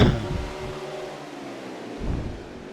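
Winston Cup race cars on the Charlotte Roval, a steady broadband engine roar with a swell as cars pass, loud and continuous without talk.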